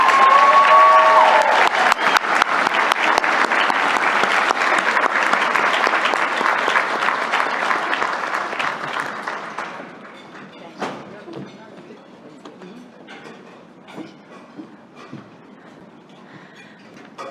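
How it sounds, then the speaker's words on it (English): A warm round of applause greets a 2022 business hall of fame laureate in a banquet hall, loud and dense at first, then thinning and fading into scattered claps after about ten seconds. "please give a warm round of applause for our 2022 laureate,"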